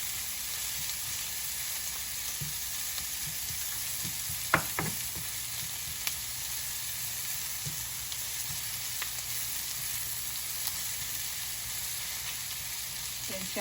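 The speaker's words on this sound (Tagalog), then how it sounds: "you can remove the meat and just saute the garlic, onion, and the tomato by itself" Garlic, onion and tomato sauté in a pan for Bicol Express, giving a steady close sizzle with a few clinks and stirring knocks from a utensil against the pan.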